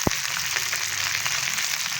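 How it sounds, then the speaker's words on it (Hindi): Okra (bhindi) frying in hot oil in a pan, a steady close sizzle with a faint crackle running evenly throughout, no voices. "भिंडी हमारी अच्छे से फ्राई हो गई है"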